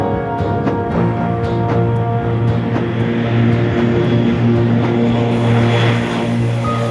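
A propeller airplane carrying skydivers drones steadily and loudly throughout, with an even, continuous engine hum and no voices.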